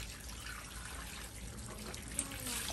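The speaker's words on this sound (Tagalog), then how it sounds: "Naglalaba siya ng kanyang uniform." Water trickles steadily nearby as a school uniform is hand-washed, the faint running stream going on throughout with a small splash near the end, and quiet voices now and then underneath.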